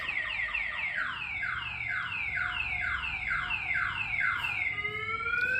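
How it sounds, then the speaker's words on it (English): An aftermarket alarm siren installed on a 2006 Chevy Cobalt wails in rapid repeating downward sweeps, loud and steady, then shifts to a different tone near the end, with no talking. "Siren's gonna sound off."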